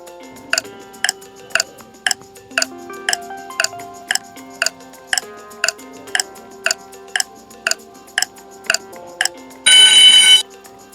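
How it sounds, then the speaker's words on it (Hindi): Countdown timer for a 10-second emoji puzzle quiz game, ticking in an even, steady rhythm of about ten sharp clicks over a soft musical bed, ending in a short loud burst of ringing alarm. "और इसके लिए 10 सेकंड का टाइमर मिलेगा"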